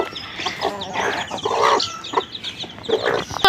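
Village chickens being fed rice on a winter morning, several birds clucking and cackling close by in irregular bursts over a quiet yard.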